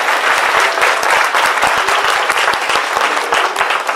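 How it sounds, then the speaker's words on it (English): A crowd at an award dinner gives loud, sustained applause for three local high schools, a dense wash of clapping from many people that stays strong throughout. "Give them a round of"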